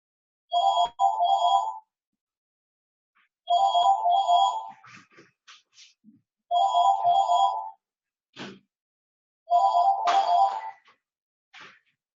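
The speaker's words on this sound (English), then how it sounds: "The phone just rang there." A telephone rings four times during a presentation, each loud, close electronic ring lasting about a second and separated by a few seconds of quiet, with faint clicks and knocks in between.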